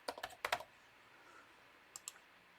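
A quick burst of keyboard keystrokes, then a pause and two more faint taps, in a quiet room.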